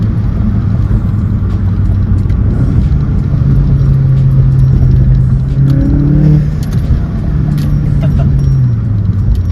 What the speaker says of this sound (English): The turbo flutter is awesome.